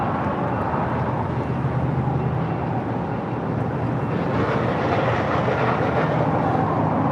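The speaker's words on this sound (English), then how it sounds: "Southwest Airlines 5329 now flying over the 110 freeway." A nine-year-old Southwest Airlines Boeing 737-800, inbound from Chicago Midway, passes overhead above a freeway, giving a steady, loud jet roar that holds for the whole stretch with broadband rumble and traffic-like wash beneath.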